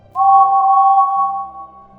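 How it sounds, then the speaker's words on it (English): A single sustained two-tone whistle blast, clear and steady, fading slightly toward the end. "Quickly, James got impatient and gave his whistle a blow."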